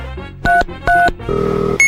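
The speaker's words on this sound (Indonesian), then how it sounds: "kami telepon kau dulu pak" Phone keypad dialing tones: two short, loud beeps in quick succession, then a longer buzzing tone and a final short beep, close and alone.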